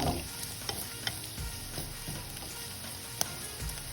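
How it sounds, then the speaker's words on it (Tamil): Grated ash gourd sautés in a pan for Kasi halwa, a soft steady sizzle broken by scattered scraping and stirring knocks from a spoon, close and fairly quiet, with no talk. "நல்லா வதக்குங்க. ஒரு 5 நிமிஷம் வதங்கினா போதும்."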